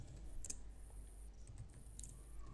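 Keys being typed on a computer keyboard, entering Java code for Selenium WebDriver, as a quiet series of irregular soft clicks close by with no talking.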